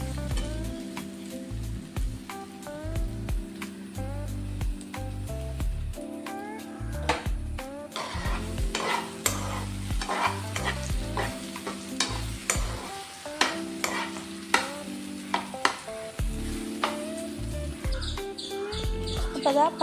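Ripe bananas fry in a pan while a spoon stirs and scrapes them, giving repeated clicks and a soft sizzle beneath steady tonal background music.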